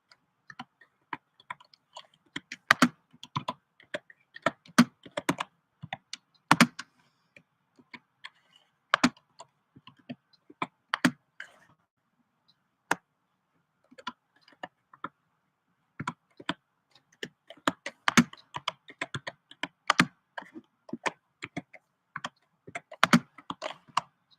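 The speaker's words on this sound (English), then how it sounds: "Let me type this out." Steady keyboard typing in uneven bursts of rapid key clicks, with pauses between runs, heard close and alone without any talking.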